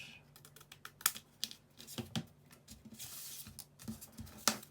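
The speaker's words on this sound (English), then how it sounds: "And I'm going to cut on the dot." Card paper cut for a handmade Mother's Day card: a quick, uneven run of crisp snips and clicks, close up and fairly faint, with a brief rustle of paper partway through and no talking.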